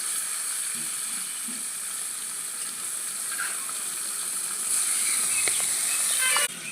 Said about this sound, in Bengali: তেলটা গরম হয়ে গেছে মাছগুলো ভেজে নি